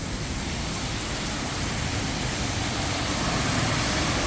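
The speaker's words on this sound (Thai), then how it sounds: "กาญจนบุรีฝนตก เยอะเลยแล้วครับ" Heavy storm rain pours down in Kanchanaburi, Thailand, a dense, unbroken roar of water that stays loud and even from start to finish with no voices.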